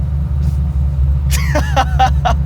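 A supercharged Chevy Camaro pro-touring build idles with a deep, steady low rumble, then revs up in a few rising surges as the clutch engages, loud and close throughout.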